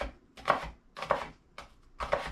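A knife rough-chopping a fresh onion on a board, four distinct, evenly spaced chops with crisp attacks and short decays, fairly quiet and close with no talking.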